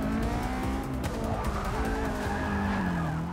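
A race car in Forza Motorsport 6 oversteers and skids, tires squealing in long sliding tones over a loud, steady engine drone, close and continuous for several seconds.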